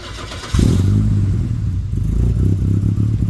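A Volvo 240 engine, with a newly installed flame trap, kicks in after a brief pause and settles into a rough, throbbing idle with a slightly rattly, uneven pulse, close to the microphone.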